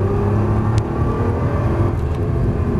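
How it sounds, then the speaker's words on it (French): Nissan GT-R at full throttle on a circuit at Dreux, a steady loud engine drone with low harmonic bands throughout, heard from close by with no talk over it. "On va doubler par la gauche, c'est parti, gaz à fond"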